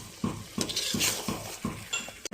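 Desi chicken meat with salt, turmeric, ginger and garlic paste being stirred in a pan, a utensil scraping and clinking against the metal in a regular rhythm of about six strokes, close and clear, with no talk.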